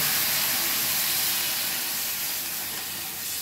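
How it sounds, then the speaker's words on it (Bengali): Water is poured into a hot pan of vegetables for a stew and sets off a loud, broad hiss of steam and sizzle that slowly fades over a few seconds, with no voices. "এবারে এটার মধ্যে আমরা জল দিয়ে দেব।"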